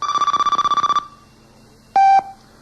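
A telephone rings during a radio station phone line check, a rapid trilling ring lasting about a second, a pause, then a short steady electronic tone, clear and close with no talk.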